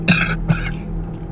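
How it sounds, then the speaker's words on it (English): Two short, sharp coughs from a man close to the microphone, the first a double burst and the second a single hack, over a steady low electrical hum. "I got a little cough"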